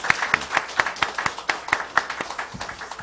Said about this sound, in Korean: 다시 한번 감사의 박수를 보내보세요